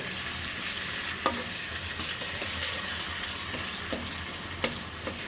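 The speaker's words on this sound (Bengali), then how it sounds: "প্রথমে কিছুটা পেঁয়াজ বাটা দিয়ে দিচ্ছি তারপর অল্প একটু রসুন বাটা দিয়ে দিচ্ছি অল্প একটু আদা বাটা এরপরে মশলাগুলোকে তেলের সাথে একটু ভেজে নেব" Onion, garlic and ginger paste fries in hot oil in a pan, a steady close sizzle with a few sharp utensil taps and stirring clicks scattered through it, and no voices.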